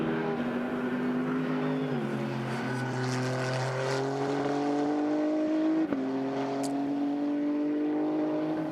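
GT race cars sweep through turns at Indianapolis Motor Speedway, a sustained high engine drone with a shifting pitch that dips and climbs as the cars pass at a moderate distance.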